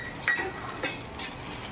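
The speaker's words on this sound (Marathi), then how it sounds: "आता आपल्याला त्याच्यामध्ये मटर घालायचे आहे" Peas drop into a pan of roasted onion for a leftover-chapati chivda, giving a few brief, faint clinks and rattles against the metal with no talking.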